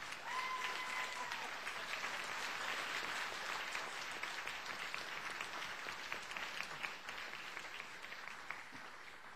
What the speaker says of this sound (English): I think that all of these gentlemen deserve a round of applause